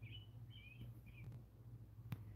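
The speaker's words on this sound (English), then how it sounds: "The birds are chirping" Birds chirp outdoors on a nice day, a few short high calls repeating at moderate distance over steady low background hum, with one sharp click near the end.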